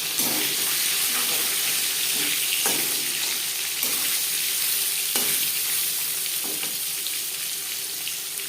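Pangas fish fries in a pan of hot refined oil, a steady loud sizzle with bright crackle running throughout, broken by a few sharp clicks and brief disturbances as pieces shift; no one talks.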